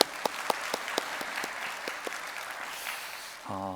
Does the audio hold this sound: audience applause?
yes